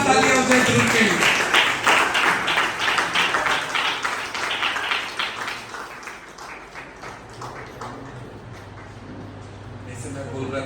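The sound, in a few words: audience applause at graduation ceremony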